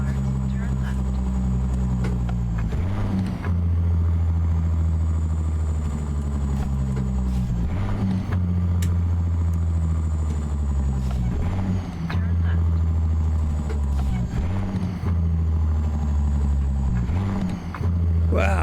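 A heavy truck engine in American Truck Simulator, a Peterbilt 389, revs up and drops repeatedly through a series of downshifts, loud and continuous, with a high whine above the low engine drone.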